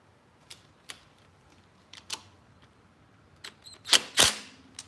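Ratchet clicks and metallic taps come from loosening the bolts on a 1980 Honda CM400T motorcycle engine. Sparse single clicks lead into a louder cluster of close, sharp ratcheting near the end.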